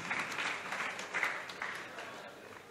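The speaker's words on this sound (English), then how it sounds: "A round of applause for him as he comes up for the awards." Audience applause at a university award ceremony during an inter-school debate event, a steady, moderately distant clapping that fades slightly toward the end.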